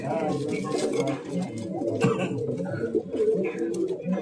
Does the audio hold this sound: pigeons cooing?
yes